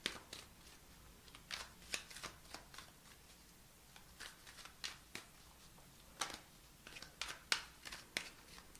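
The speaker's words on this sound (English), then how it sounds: "I'm having a hard time shuffling these." Tarot deck being shuffled close up, quiet riffling and sliding bursts of cards coming in irregular clusters with short pauses between them.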